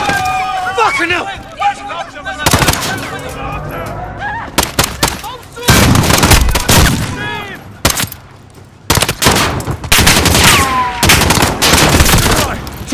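Gunfire in the Call of Duty Modern Warfare campaign, with rapid bursts of automatic fire and sharp volleys in clustered salvos, loud and close, mixed with shouted in-game dialogue between the bursts.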